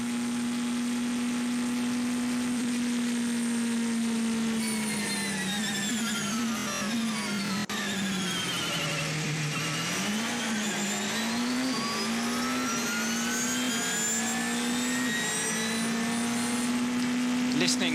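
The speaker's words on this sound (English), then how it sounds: "Listening to that, the braking and the acceleration" A race car at the 24 Hours of Le Mans brakes and accelerates in a loud, close pass, its engine note dipping and rising through the gears while a commentator talks over it.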